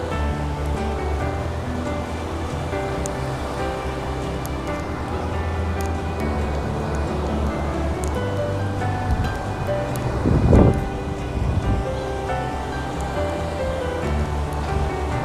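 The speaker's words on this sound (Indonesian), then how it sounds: "Nah, inilah suasananya di laut." Sea waves roll onto Kuta Beach in Bali, a continuous wash of surf with wind buffeting the microphone, one louder breaking rush partway through, and no voices.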